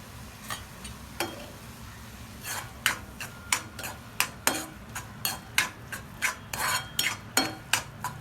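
Homemade ghee being stirred into grated carrot halwa in a pan, giving a run of distinct metallic spoon scrapes and clinks. They start sparse, then come in a steady rhythm over a low hum.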